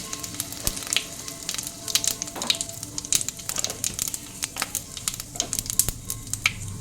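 Bay leaves and whole cumin frying in a kadai, a steady sizzle with scattered sharp pops and crackles throughout, close and moderately loud, with no talk.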